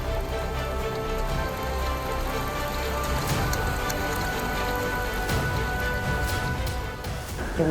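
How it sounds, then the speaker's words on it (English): Heavy rainstorm falling outdoors at a Texas hunting spot, a dense, constant hiss of rain drumming on surfaces nearby, with scattered louder drops and no talk. "The rain, it came a big rainstorm."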